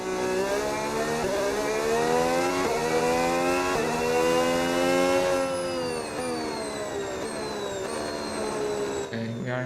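Red Bull Formula 1 car engine in the F1 26 racing game during preseason testing, wailing loudly and continuously as it revs up through a series of rising gear shifts, each climb cut by a quick drop in pitch.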